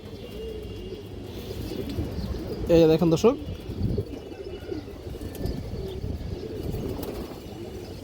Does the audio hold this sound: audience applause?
no